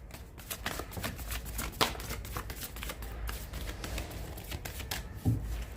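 Tarot cards are shuffled by hand in a continuous run of quick riffling, rustling and slapping strokes, close and clear, with a few louder card knocks along the way.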